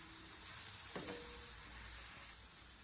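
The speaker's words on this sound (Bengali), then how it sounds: "এখন আবারও আমি একটু নাড়াচাড়া করে সব কিছু ভালোভাবে ভেজে নেব।" Vegetable filling seasoned with turmeric and chili powder fries in a pan while being stirred, giving a soft, steady sizzle with a brief scrape of the spoon partway through.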